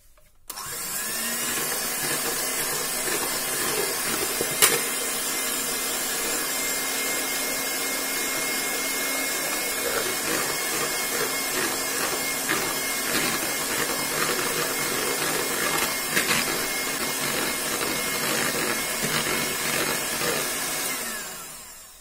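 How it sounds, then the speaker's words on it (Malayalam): Eggs being beaten with an electric beater for a wheat banana cake: a loud, steady motorized whir that starts abruptly, runs continuously with occasional clicks against the bowl, and winds down at the end. "നമുക്ക് ഇനി എഗ് ഒന്ന് ബീറ്റ് ചെയ്തെടുക്കാം."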